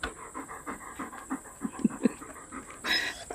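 A Basset Hound pants and breathes heavily up close, with a few soft whimpering, crying sounds mixed into the rhythmic huffing.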